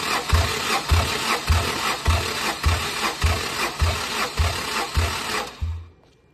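An LS engine in a Ford Ranger turbo build cranking on its starter motor during cylinder compression checks, with steady rhythmic loud chugs about every half second before stopping abruptly, and no talking.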